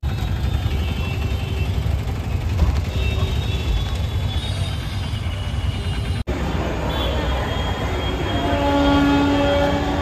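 Garib Rath Express at Lingampally station rumbles steadily past the platform with rolling wagon noise, a horn-like tone and faint wheel squeal, loud and continuous, with station chatter mixed underneath.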